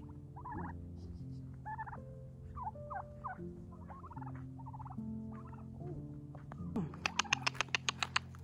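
Turkeys on a homestead gobbling repeatedly, close and loud, with quick rattling calls near the end.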